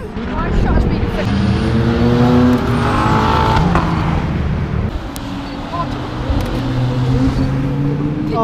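Ferrari LaFerrari on track at Brands Hatch, its engine screaming loudly with rising and falling revs as it passes close by, while an excited voice talks over it.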